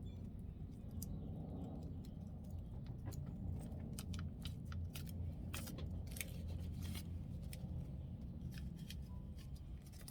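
Scissors cutting a piece of vinyl or chip board during an HP 950 printhead repair, a series of sharp snips at an uneven pace over a low background rumble, fairly faint.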